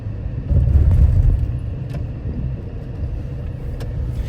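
Cabin of a 2017 Lexus NX300h 2.5 hybrid on the move, a steady low road rumble and muffled drive noise heard from inside, with faint light rattles and no talk.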